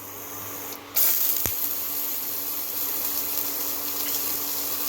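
Onion and coconut slices roast in a little oil in a pan for a homestyle drumstick curry. A steady broadband sizzle swells in after a moment, with a single sharp click partway through.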